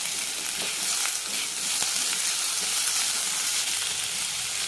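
Tomato and onions sautéing in a pan for a hotel-style fish mango curry, giving a steady, dense sizzle and hiss throughout with no talking.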